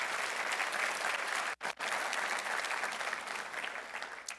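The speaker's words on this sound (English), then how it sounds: "Let's give her a round of applause." Audience at a university State of the University address applauding in a large hall, a dense, sustained burst of clapping with a brief dip partway through, continuing strongly to the end.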